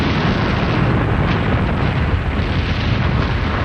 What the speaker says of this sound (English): It is as I feared. The mountain has awoken.